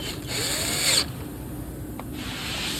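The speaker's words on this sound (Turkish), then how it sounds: "burada 2 adet vidayla sıkıyoruz" A power screwdriver drives screws in a fixture, with a steady motor whine, one louder burst near the start and a brief pause before running again, close and alone.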